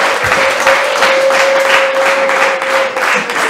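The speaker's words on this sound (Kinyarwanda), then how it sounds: "amashyi menshi cyane rwose" Wedding guests applaud loudly and close by at a ceremony, a dense run of clapping with a steady tonal hum running underneath.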